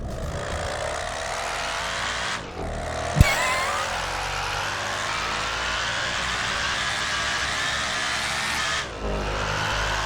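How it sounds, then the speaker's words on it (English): A slow car in GTA 5 with an awful-sounding engine, driven flat out: a steady, strained drone runs almost unbroken for ten seconds, with two brief dips and one sharp click. "Yeah, I'm going flat out right now. It sounds awful."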